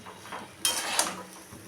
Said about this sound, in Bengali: রাইসটা দিয়ে দিলাম, একটু মিশিয়ে নেব।